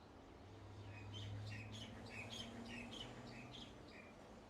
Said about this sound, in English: There are many, many bird beings. Several, in fact, flying over you right now.